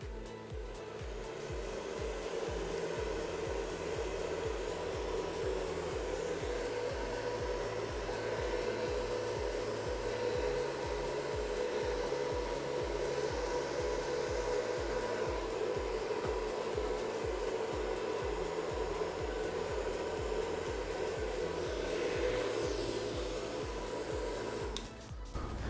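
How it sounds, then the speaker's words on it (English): A small hair dryer blows steadily on a large 36 by 48 inch Dutch pour acrylic marbling canvas, a continuous close whirring hum with a low pulsing motor buzz that runs unbroken for the whole stretch. "I'm gonna fix that with the small dryer."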